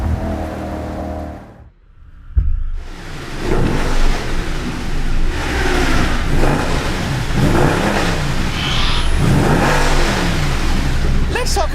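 A 6.2 liter V8 in a car revs repeatedly in wet, rainy conditions. The rises and falls are loud and close, and a voice talks over the engine throughout.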